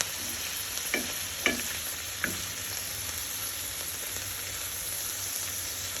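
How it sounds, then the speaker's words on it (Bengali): Dried fish (shutki) frying in a pan gives a steady sizzle, with a few sharp clinks and scrapes of stirring near the start. No one speaks. "শুটকিটা ভাজা হইতেছে।"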